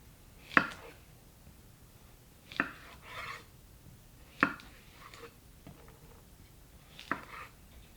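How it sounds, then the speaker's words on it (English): A knife slices cucumbers thinly on a cutting board for bread and butter pickles, making about five sharp, quiet chops spaced a second or two apart in a hushed kitchen. "I'm going to end up cutting through the 2 pounds of cucumbers"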